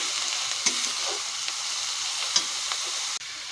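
Onion, ginger and garlic paste frying in a pan: a dense, steady close sizzle with a couple of light utensil taps, no voices.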